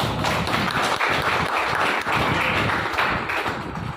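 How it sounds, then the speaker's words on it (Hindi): A crowd at a health awareness seminar claps steadily, forming a loud, dense wash of overlapping hand claps that holds for several seconds before easing slightly. "एक बार मैं ताली चाहूँगा जिन्होंने प्लान लिया नारायण सर ने"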